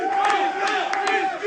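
Fans at a StarCraft 2 WCS European Premier League Ro16 match roar and cheer in a sustained, dense crowd wash, with brief louder shouts rising out of the steady noise.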